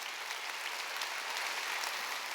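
A church congregation claps together during a Wednesday worship service, a dense, steady roar of hands that fills the room evenly without pause and stays loud from start to finish.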